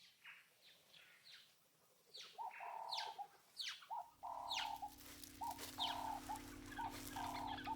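Guinea fowl call outdoors in the wild, a series of harsh, repeated squawking cries layered with faint chirps from other birds, fairly quiet and distant, with a steady low hum underneath in the second half.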